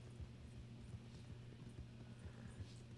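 Horse hooves clip-clopping in a video game, a faint steady walking rhythm of soft thuds over a low humming background.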